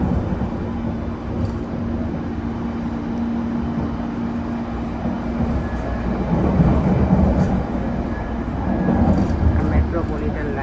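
London Underground Metropolitan line train near Paddington station, a continuous low rumble and rattle of the carriage throughout, swelling slightly midway, with a steady whine and a voice speaking over it.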